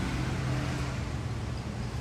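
Steady low rumble of road traffic passing a city bus stop in Savannah, Georgia, with vehicle engine drone filling the background continuously and fairly loud, no voices.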